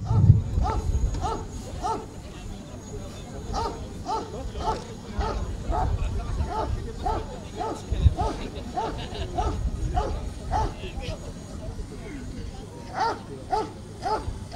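A police dog barks repeatedly in rapid bursts, close and loud, as its gendarmerie handler escorts an arrested person during an outdoor road-safety demonstration, with voices around.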